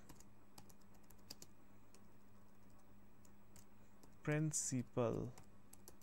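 Keys clatter on a computer keyboard while a school timetable is typed in MS Word, faint scattered taps over a quiet hum, followed by a short burst of nearby speech.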